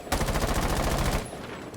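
Rapid automatic gunfire in a competitive shooter game, a sustained burst blasting down a barricade, loud and close for about a second before cutting off into quieter ambience.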